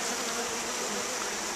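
A package of honey bees buzzes in a dense, continuous drone, close and steady throughout with no voices.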